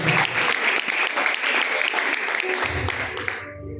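A church congregation applauding, dense and energetic clapping from many people that fills the room continuously, with a low voice or music entering near the end before it cuts off.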